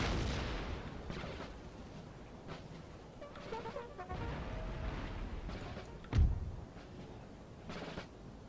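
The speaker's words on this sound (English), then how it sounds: "Keep firing, lads. Keep firing!" Massed musket volleys and cannon fire from troops in an Empire: Total War battle, a steady rumble of distant shots and booms with one loud blast standing out near the middle, and no talking.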